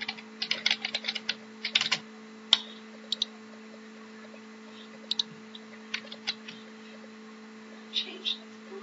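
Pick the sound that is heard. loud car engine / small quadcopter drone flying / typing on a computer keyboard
typing on a computer keyboard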